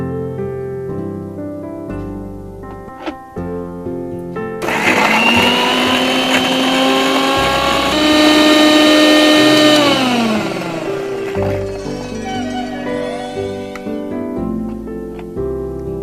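A kitchen blender purees ingredients into a chutney for a chicken sandwich filling, a loud steady whirring roar that climbs in pitch and then settles over several seconds, with music playing throughout.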